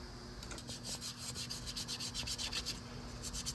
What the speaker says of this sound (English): 320 grit emery cloth to just get a little bit of this corrosion off where the O-ring seals